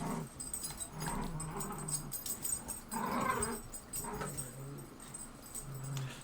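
Dogs whimper and growl close by in soft, uneven bursts over a low background hum, with no speech.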